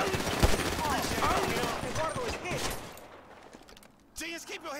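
Gunfire from the video game GTA V, a busy firefight with shots crackling under overlapping voices and in-game speech, thinning out before a brief louder burst near the end.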